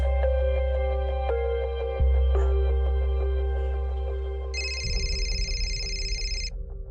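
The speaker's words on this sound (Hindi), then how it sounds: "Why is he even calling me?" A mobile phone rings with an incoming call, its electronic ringtone repeating in clear tonal pulses, joined partway through by a brighter, higher chiming layer, with no one talking.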